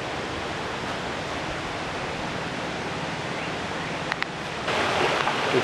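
A waterfall at a resort retreat and spa: steady, broad rushing water roar that stays even throughout, with a couple of brief clicks near the end and a slight swell in loudness just after.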